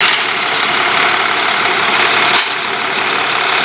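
A loud, steady diesel engine of a Kirovets K744R2 tractor idles nearby in a field with a constant rumbling drone and no voices.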